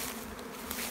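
Honey bees hum steadily and densely at a backyard hive during a split, a close, continuous buzz with slight swells and no voices.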